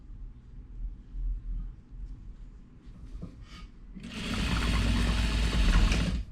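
A sewing machine runs in a steady fast whir as it stitches the seams of a triangle hexie quilt, starting after a quiet stretch and running loud and close to the end.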